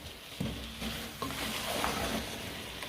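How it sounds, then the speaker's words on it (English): A spoon stirs soft cooked yam with vegetables and oil bean seed in a pot, giving a steady, soft scraping and gentle sizzling texture, close and continuous with no talking. "just give it a quick stir again"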